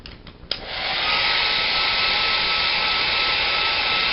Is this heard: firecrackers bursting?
no